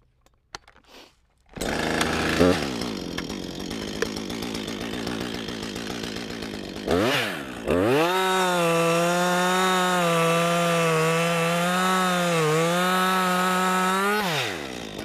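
A chainsaw cuts through a tree trunk being felled, starting with rough revving, dropping briefly, then settling into a loud, sustained whining drone with slight pitch wobbles as the chain bites into the wood, close and alone without talk.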